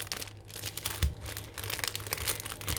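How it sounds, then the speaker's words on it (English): A plastic bag crinkles and rustles as it is handled up close, a dense run of crisp crackles and soft crumples with a few louder bursts, and no talking. "there's your plastic bag"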